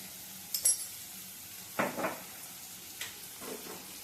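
Chopped onion with salt sautés in hot oil for kande pohe, stirred in a pan, under a faint steady sizzle. A few short scraping, clinking bursts come from the stirring strokes.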